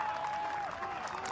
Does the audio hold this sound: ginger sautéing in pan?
no